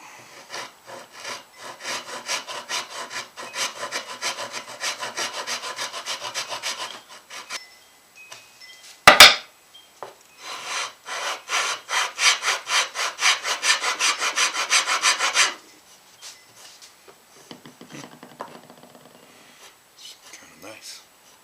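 A Shinto rasp shapes a wooden guitar head plate in two long bursts of steady, rhythmic rasping strokes, close and loud, split by a sharp knock and followed by quieter handling sounds.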